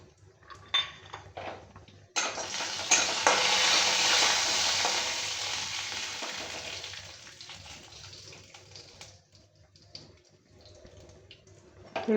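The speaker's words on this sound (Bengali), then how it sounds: "এগুলো একটু ভেজে নেব, কাঁচা চীনা বাদাম।" Raw peanuts tossed into a hot pan to fry, opening with a few clinks before a sudden loud sizzle that hisses strongly, then slowly fades over several seconds amid scraping stirs.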